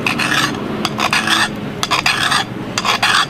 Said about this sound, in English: I use a chainsaw file that I've modified